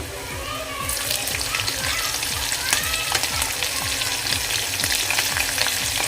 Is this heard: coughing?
no